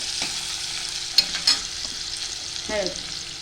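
Chopped tomatoes sizzle in a hot pan for dal palak, the frying hiss steady while a spoon stirs, with a couple of brief metallic clinks against the pan.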